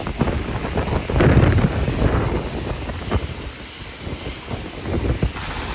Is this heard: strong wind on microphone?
yes